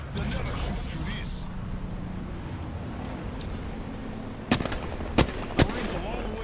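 Video game gunfire in a battle royale match, a few sharp close shots near the end, with voices talking over a steady game background.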